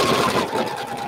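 A sewing machine stitches quilt rows at a fast, steady whirring pace, close and continuous throughout with no voices.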